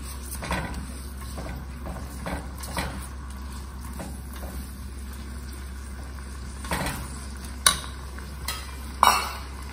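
Food sautéing in a pan over a high flame for Surti vaal pulao: a low steady hum with soft intermittent sizzle and scattered spoon scrapes, ending in a few louder utensil clanks against the pan, close, no talk.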